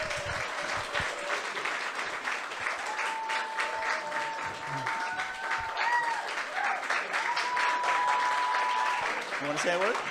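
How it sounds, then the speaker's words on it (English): An audience at a Filipino Hollywood actors panel applauds an actor and producer called up to the front. The clapping is steady and sustained for about ten seconds, with some whoops and voices mixed into it. "So please come up here and get some beautiful round of applause for Edwin A. Santos!"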